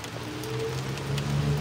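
Steady rain falls all day outdoors, a continuous hiss of drops hitting surfaces. It stays fairly loud and even throughout, with no one talking.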